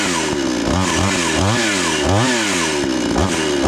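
A 52cc chainsaw, already warmed up, fires after a pull start and runs loud and close, its engine revving up and down in rising and falling sweeps for a few seconds.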